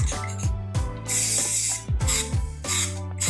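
Rust-Oleum primer hissing from an aerosol can onto three vases in repeated bursts, each spray a loud close hiss, with a rattle or shake between bursts and no talking.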